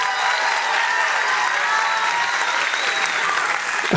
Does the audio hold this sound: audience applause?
yes